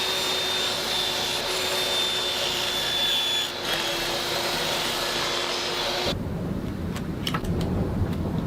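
Power tool cutting spacers from 1/8 inch plywood, a steady loud whining roar that runs for several seconds, then cuts off abruptly to quieter handling noises.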